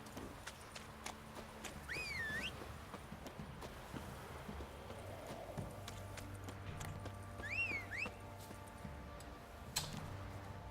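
A horse in The Witcher 3 trots with steady clip-clop hoofbeats over a quiet ambient game background, with two brief whinnies.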